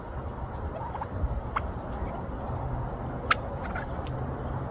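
A Royal Palm turkey gobbles in short, fairly faint bursts while ranging free among chickens outdoors, with a quiet background between calls.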